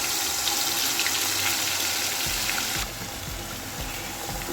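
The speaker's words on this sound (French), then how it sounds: "L'huile est chaude, je viens ajouter mon mélange ail, oignon, gingembre que j'ai écrasé dans l'huile comme ça." Crushed garlic, onion and ginger paste hitting hot oil and frying, giving a steady, loud broadband sizzle that continues throughout with a slight drop in intensity partway, no talking.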